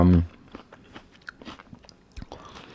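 A loud, crisp bite into a crunchy, sweet persimmon, followed by a string of smaller crunching chews close to the microphone.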